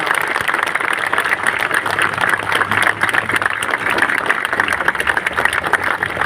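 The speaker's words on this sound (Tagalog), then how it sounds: "Pwede ba palakpakan natin ang pinakamalakas yung palakpak?" Steady, dense applause from a crowd at a Manila city government flag raising ceremony, continuous even clapping throughout with no voices standing out.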